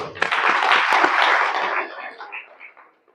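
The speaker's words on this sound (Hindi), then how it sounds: "उनके लिए विशेष तालियां हो जाए" An audience at a health camp in Surat, Gujarat bursts into applause: dense, close clapping from many people holds steady for a couple of seconds, then tapers off and fades to silence.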